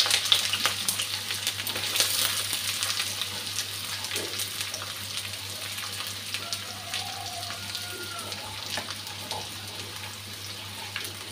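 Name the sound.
garlic and onion frying in a pan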